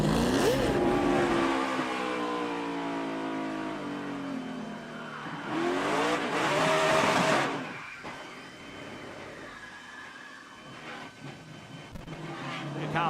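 NASCAR Cup Series stock cars on a wet track make contact in a crash: engine roar rises and falls as the cars pass and rev, with a louder surge midway and thinner, more distant engine noise afterward.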